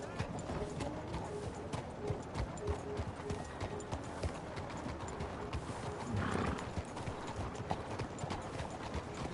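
Steady clip-clop of horse hooves in Red Dead Redemption 2 on PS4, with a horse whinnying partway through, over a soft background hum.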